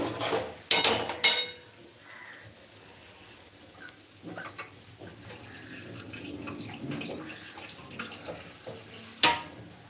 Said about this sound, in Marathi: आपल्याला ह्याच्यामध्ये पाणी घालायचं आहे भरपूर